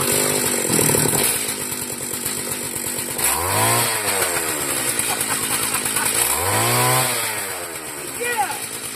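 The small Viper engine on an Island Hopper motorized bicycle runs loud and close, a raspy buzzing drone that rises and falls in pitch twice as it revs up and eases off.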